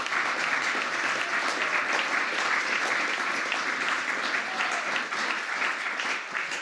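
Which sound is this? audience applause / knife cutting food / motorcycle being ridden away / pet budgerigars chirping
audience applause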